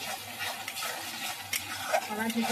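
Green peas are tipped into frying spices in a wok and stirred, giving a steady close sizzle with scraping and clinking of the spoon against the pan, no talking.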